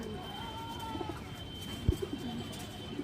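Soft, low cooing from a restless female Giya Mushaldom pigeon, faint and close with no voices, with a couple of brief louder notes near the end.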